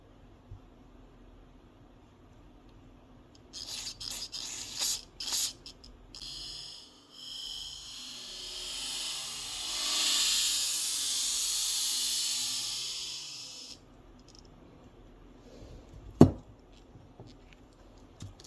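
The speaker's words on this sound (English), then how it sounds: "You can also spray through the emulsion tube." Carburetor cleaner sprayed through a carburetor's emulsion tube gives a steady, broad hiss lasting several seconds, preceded by a few short bursts and followed by quiet and a single sharp click.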